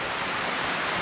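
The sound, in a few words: heavy rain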